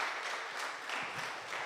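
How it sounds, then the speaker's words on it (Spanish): A church congregation applauds during a service, a soft, distant-sounding blur of many hands clapping together, steady and fairly faint over its short span. "Un aplauso al Rey, se pone de pie y damos gracias."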